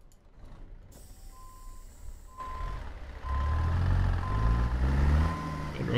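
A Kenworth W900 truck in American Truck Simulator reverses with a regular series of evenly spaced beeps as the diesel engine rumbles louder and closer, with no talking over it.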